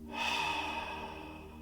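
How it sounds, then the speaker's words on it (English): Three slow belly breaths drawn in through the nose and pushed out during a guided crown chakra meditation, a steady airy rush heard close and alone with no talking over it. "3 fiery breaths, belly breaths."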